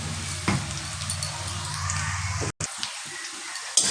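Onions fry in a pan with a little sugar until browning, producing a steady, fairly soft sizzling hiss that cuts out for an instant partway through, with no talk.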